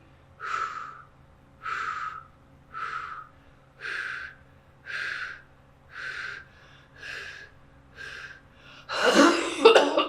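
Eight evenly spaced, breathy huffs repeat about once a second during an airway-clearance breathing exercise, followed by a louder burst of coughing at the end.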